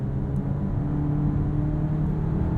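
Two-liter turbo engine of a 2022 Volkswagen Tiguan SEL R-Line AWD while driving, heard from inside the cabin as a steady low drone and whir with faint road rumble, constant in level, no talk.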